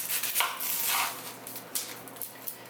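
A knife cuts open a big onion on a board for bison chili, a few close, crisp chopping and slicing strokes with light knocks against the surface, no speech.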